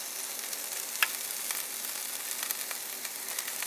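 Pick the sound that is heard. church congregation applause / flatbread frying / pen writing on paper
flatbread frying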